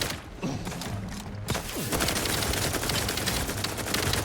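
Sustained rapid gunfire from a weapon in The Outer Worlds 2 on PC, loud and close, a dense continuous burst that begins after a quieter opening and keeps hammering with a few heavier thuds mixed in.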